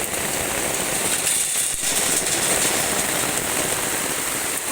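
Heavy storm rain pours down in a dense, steady roar, loud and close, with a hard hiss of drops on surfaces that holds unbroken throughout.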